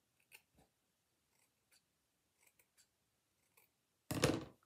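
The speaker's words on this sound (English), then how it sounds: "So I'm going to cut those little pieces off." Scissors snip off small pieces in a handful of quiet, separate close clicks, followed by one louder, longer rustling burst near the end; no one speaks.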